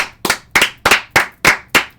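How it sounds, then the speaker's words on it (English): Seven sharp, evenly spaced claps from one person, close and dry, striking at a steady beat of about three per second with quiet gaps between them. "let's clap it up for the whole Guardians lineup in general"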